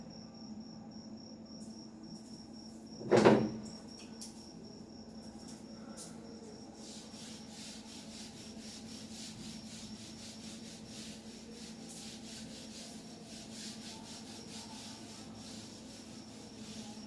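A sharp rubbing swipe erases writing on a board, followed by a long, soft, hissing rub that continues steadily, close and fairly quiet.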